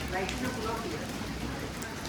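Steady rain falls outside, a soft continuous hiss and patter of drops on surfaces with no breaks across the short stretch.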